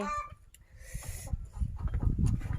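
Bantam hens clucking in short, irregular bursts, moderately close, with some rustling and low thumps in the background.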